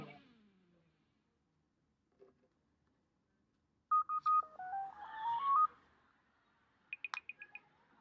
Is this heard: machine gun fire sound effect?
no